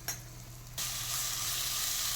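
Spice masala fries on a low flame in a pan, a soft sizzle that swells louder partway through and then holds as a steady close frying hiss.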